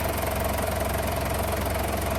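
A car engine runs rough on a cold morning, one piston not warming up, giving a steady close idle with a rapid uneven pulsing throb and vibration.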